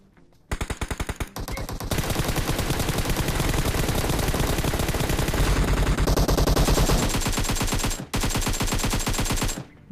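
Rapid automatic gunfire from a PUBG Mobile firefight rattles in loud, dense bursts for nearly the whole stretch, broken only by two brief pauses.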